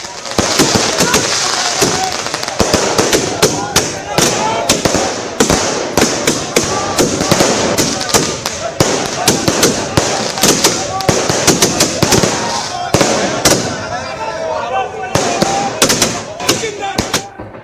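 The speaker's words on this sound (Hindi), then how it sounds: "अनंत सिंह के आते ही आतिशबाजी शुरू हो गई।" Fireworks and firecrackers set off by celebrating political supporters crackle in rapid, loud, dense bursts, with sharp pops and bangs nearly continuous, while a crowd and voices are heard underneath.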